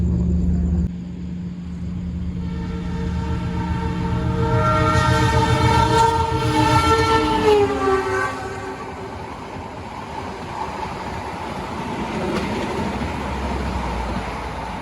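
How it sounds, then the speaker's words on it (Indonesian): Mutiara Selatan express train on the Surabaya Gubeng–Bandung route runs straight through Caruban station without stopping, with a loud, steady rumble of wheels and a sustained horn blast partway through. No one speaks. "KA Mutiara Selatan teman-teman, relasi Surabaya Gubeng Bandung berjalan langsung stasiun Caruban menyusul KA Kahuripan ya."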